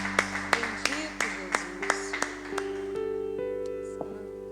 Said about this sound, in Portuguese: Aplauda ao Rei dos Reis, o Senhor dos Exércitos